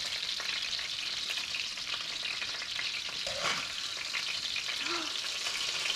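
Crappie fish frying in hot coconut oil, a dense, steady sizzle that fills the whole stretch, close and fairly loud, with a brief clatter or stir partway through and no speech.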